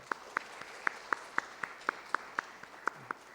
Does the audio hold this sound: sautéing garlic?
no